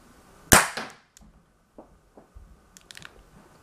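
Homemade internal combustion pistol fires a single sharp, loud crack near the start, followed by faint clicks, small thuds and rattling handling noises.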